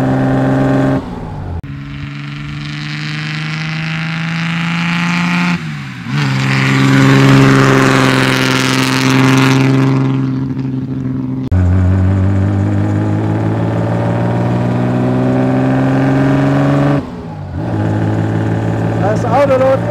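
A 1936 Wanderer W25K sports car engine revs up and down in loud, close surges with brief drops between them, and a voice is heard alongside.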